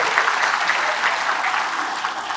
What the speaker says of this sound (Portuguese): Uma salva de palmas aí para ele.